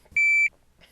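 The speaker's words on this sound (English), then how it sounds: "Everybody needs a shot timer for draw practicing, reloads." A shot timer for draw and reload practice gives a single loud, steady electronic beep of about a third of a second, alone with no talk.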